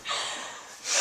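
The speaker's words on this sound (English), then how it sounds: "Ew, my god, you like blowing your nose." A single close, breathy nasal blast of someone blowing their nose, a rushing hiss that swells, eases off, then surges again at the end, with no talking.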